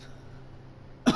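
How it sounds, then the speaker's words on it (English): A single small cough from an adult near the end, brief and close, after quiet room noise; a soft, restrained cough rather than a hard one. "Baby coughs, no hard coughs."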